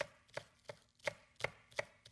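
Knife mincing a small onion on a cutting board, sharp close chops in a quick steady rhythm, about seven crisp strikes, quiet and alone with no talking.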